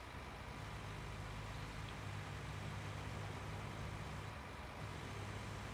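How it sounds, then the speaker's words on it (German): Vehicle engines idle in Farming Simulator 19, a steady low rumble that drones on without a break at a faint, even level, with no voices over it. "ich finde es echt doof, dass die Autos so laut sind"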